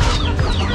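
Bangkok chicken, a cross between a Sibasut rooster and a Mai Tai hen, clucking close and loud in one brief burst of sound.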